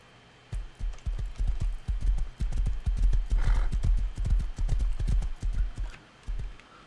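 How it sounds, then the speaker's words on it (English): A horse in the video game Rust gallops with a rapid, rhythmic clatter of hooves, loud and close, running steadily for several seconds with a brief snort partway through. "Can you stop running so fast, horse?"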